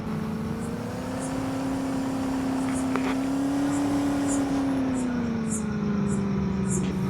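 A goods vehicle loaded with sacks of harvest from the fields crawls along slowly, its engine giving a steady, continuous drone close by with no break in the sound.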